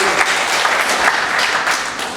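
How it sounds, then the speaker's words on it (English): Audience at a hotel management institute event clapping in steady, dense applause, close and loud throughout the short burst. "Give him a round of applause."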